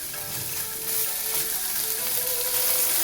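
Prawns frying with ground spices and cumin powder in a pan, a loud, steady sizzle with soft stirring scrapes underneath, close and without speech.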